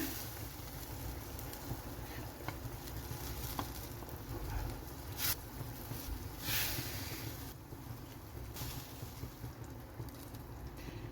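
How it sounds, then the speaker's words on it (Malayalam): Washed sardines going into boiling masala in a pan for a Kerala-style fish curry, giving a steady close sizzle and bubbling hiss that runs throughout, with a few brief sharper crackles and no talk. "അപ്പോൾ നമ്മുടെ മസാല തന്നെ നന്നായിട്ട് ഇവിടെ തിളച്ചിട്ടുണ്ട്. ഇനി നമ്മളിതിലേക്ക് ചേർത്ത് കൊടുക്കുന്ന കഴുകി വെച്ചിരിക്കുന്ന മത്തിയാണ്."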